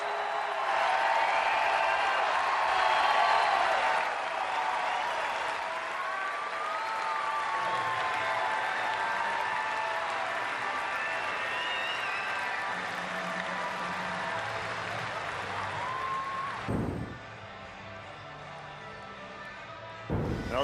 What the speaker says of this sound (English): let's listen to the crowd as we go to break